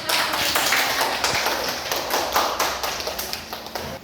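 Students in a classroom clap their hands together in a loud burst of close, uneven clapping that gradually thins toward the end.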